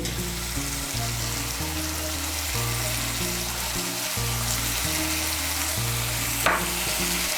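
Spices and salt frying in oil in a pan for a Bengali cauliflower curry, a steady loud sizzle throughout with recurring low scraping strokes as the mixture is stirred together; a brief clink near the end, no talk.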